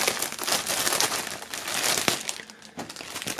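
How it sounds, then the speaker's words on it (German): Plastic shrink wrap crinkles and crackles as it is pulled off a shirt and a music album, with continuous close rustling and one sharp snap partway through. "werden wir die mal aus der Folie holen"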